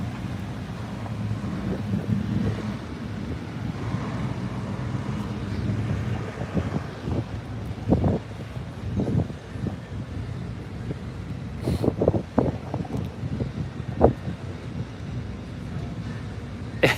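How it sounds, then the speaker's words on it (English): Wind buffets the microphone at the SpaceX Starbase launch pad, a steady low rumble with gusty thumps and scattered clanks, no voices heard. "Got some wind here too, everybody. We got some wind."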